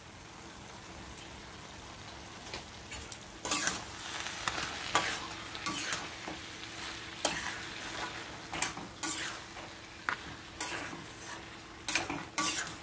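Muri ghanto, a puffed rice dish, cooks in a pan with a constant soft sizzle, punctuated by occasional light clinks and scrapes of a utensil.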